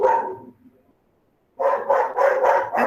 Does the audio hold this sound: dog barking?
yes